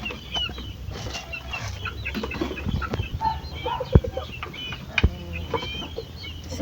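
Hens with a batch of young chicks clucking nearby, scattered soft clucks and peeps with a few sharper calls and brief wing flaps over a quiet farmyard background.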